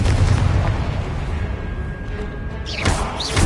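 A Confringo blasting spell in the video game Hogwarts Legacy, a loud booming explosion with a rumbling, crackling tail that fills the whole clip, with no speech.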